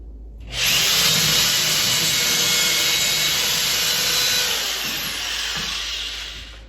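A power drill bores into a wall stud while a television is being mounted, starting abruptly and running as a loud, steady high whine with grinding, easing slightly near the end.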